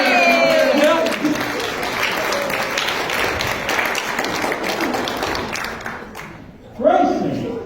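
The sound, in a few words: audience applause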